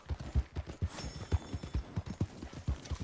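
Horse hooves clip-clopping in Red Dead Redemption 2, a steady, even trot of crisp, close hoof strikes, about three or four per second, with a faint snort partway through.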